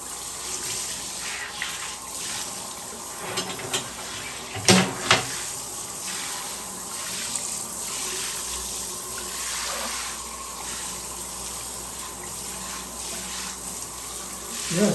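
Water runs steadily from the tap into an old 70-year-old bathtub and drains away, a continuous soft rushing with a few splashes and knocks, fairly faint throughout.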